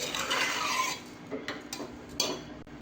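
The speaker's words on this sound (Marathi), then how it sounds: "छान परतून घेऊया। थोडा वेळ परतून घ्यायचं आहे।" A spoon scrapes and stirs a pea rice mixture in a metal pan while it sautés, with soft clinks and scraping strokes close by and several distinct taps toward the end.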